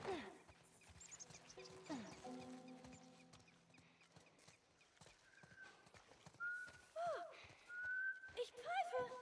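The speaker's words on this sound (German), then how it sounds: "Ich pfeife." A character whistles in The Last of Us, several short rising tonal whistles following clip-clopping horse hooves, with game ambience and faint talk in between.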